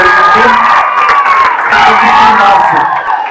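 An audience at a government junior college function in Palnadu cheers and claps loudly for a student's ninth state rank. The crowd noise is dense and continuous, with shouts and whoops over the clapping.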